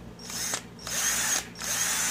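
A brushed cordless drill with a 10 mm chuck whirs loudly up to speed in close, repeated bursts, each spin briefly dropping away before starting again, with no talking.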